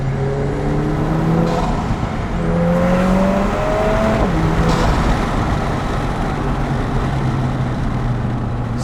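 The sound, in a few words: Lotus Emira Turbo engine, loud, on canyon drive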